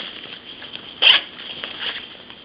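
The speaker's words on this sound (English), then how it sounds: "you just open this zipper" A side-pocket zipper on a Deuter Futura 42 AC backpack is pulled open in one short, close rasp over a faint background hiss.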